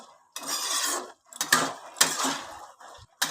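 Tomatoes are stir-fried in a pot for a ghugni snack: a spoon scrapes and clanks against the metal pot in several bursts separated by short pauses, close and fairly loud, with no talking.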